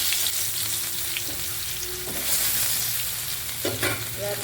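Prawns and potatoes frying with garlic paste in hot oil in a kadai, a continuous close sizzle with occasional stirring clatter, no talking.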